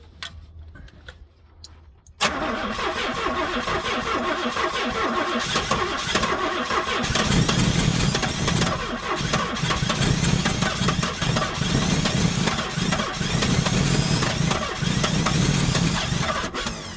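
A 1968 Buick Wildcat's 430 V8, after sitting ten years, cranks briefly and catches, then runs loud and close with a rough, uneven lope that swells and surges for the rest of the stretch.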